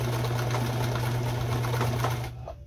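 A Kenmore 158.17740 sewing machine stitching, with a steady, close motor whir and needle chatter running evenly before stopping near the end.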